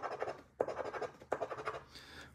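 Scratch-off lotto tickets being rubbed clean from a bought pack: two or three quick bouts of dry, rhythmic scraping, close-up and soft, separated by brief gaps before a faint tail.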